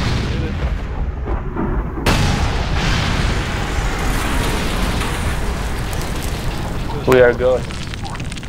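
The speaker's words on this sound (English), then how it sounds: "Ghost used airstrike." Airstrike explosions in the video game Ghost Recon Future Soldier roll out as a loud, sustained rumbling blast that begins abruptly and lingers under game noise, while voices talk over it.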